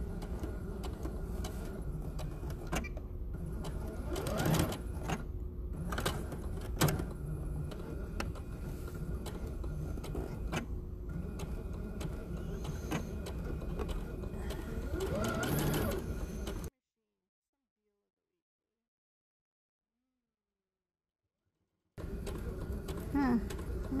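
Sewing machine stitching a fabric face mask, running in rapid mechanical bursts with short pauses and a long silent gap near the end, close and fairly quiet, with some talk.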